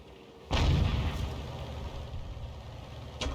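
Enemy counter-battery artillery fire in a tank combat game: a heavy boom lands abruptly and rumbles on, with a second sharper report near the end, over a steady low engine hum.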